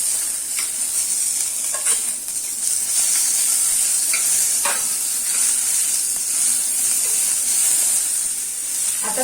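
Chopped, deseeded tomato fries with onion in a pan, giving a continuous close sizzle and hiss with occasional stirring scrapes and no talking.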